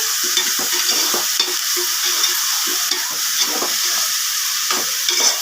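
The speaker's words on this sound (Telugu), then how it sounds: "ఇవి ఇలా ఫ్రై అవుతాయి" Whole spices frying in hot oil for vegetable bagara rice with fresh coconut, a loud dense crackling sizzle with brief stirring scrapes throughout, close up and with no speech.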